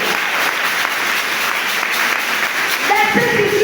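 A church congregation applauds to acclaim the Lord, a dense, steady wash of clapping that fills the whole moment, with a voice rising over it near the end.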